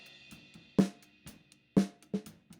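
Acoustic snare drum from a real kit, heard ungated with cymbal and kit bleed left in; three or four solid hits among softer ghost notes and a steady wash of hi-hat between strokes.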